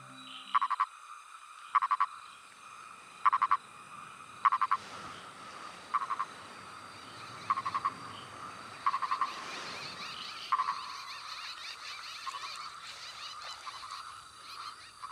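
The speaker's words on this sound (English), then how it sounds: "Listening to his plaintive calls, a female purple frog emerges." A male purple pig-nosed frog gives short, hoarse croaking calls in repeated clusters of a few pulses each, evenly spaced every second or two, clear and fairly close over a faint steady background hiss.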